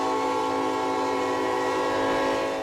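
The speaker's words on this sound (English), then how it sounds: "a string of train cars regularly stops," A long string of train cars rolls along railroad tracks at an East Houston crossing, with a loud, sustained tonal horn blaring close by over a low rumble.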